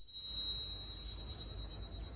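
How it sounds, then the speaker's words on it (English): A Brompton folding bicycle's bell gives one bright, resonant ring that sustains and slowly fades under a low outdoor rumble in a eucalyptus forest. "This is the best sounding bell, very resonant."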